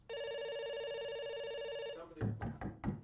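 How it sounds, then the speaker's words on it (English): A telephone rings in a video game, one long continuous electronic ring close and clear, followed by a few knock-like thumps. "It's ringing."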